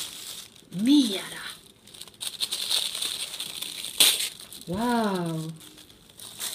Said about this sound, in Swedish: Vet du, jag vill att vi river mera. Mera. Så vi får fler bitar.